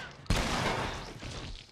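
A sudden sharp burst of sniper gunfire in The Last of Us, a single loud crack followed by a sustained noisy rumble and echo that slowly fades.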